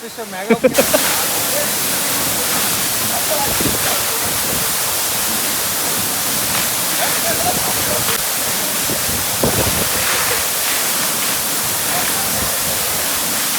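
Sundi Falls near Belagavi roars with a steady, loud wash of falling water that fills the whole scene, broadband and constant, with faint voices and brief knocks mixed under the rush.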